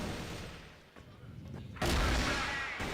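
Gunfire in a CrossFire esports grand finals match: scattered shots under commentator chatter, then a loud sustained burst of fire near the end.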